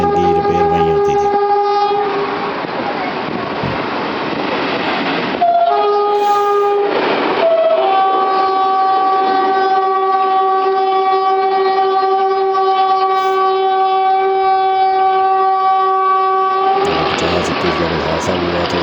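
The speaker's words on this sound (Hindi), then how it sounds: "50 21 जो है वो डेड 51 13 को लेके आ रहा है कोटा की तरफ से।" Pakistan Railways GRU 20 diesel locomotive 5021 hauling dead locomotive 5113 sounds a long, loud multi-tone horn, held steadily for many seconds with brief pitch breaks, over the rumble of the passing train.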